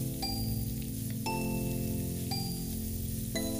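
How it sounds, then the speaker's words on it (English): Diced onion sweats in oil alongside oxtail in a pot for a Madagascar oxtail peanut stew, giving a steady soft sizzle with faint stirring knocks and no voices. "I'm going to dice up an onion. And throw that in as well. And I'm going to sweat out the onion."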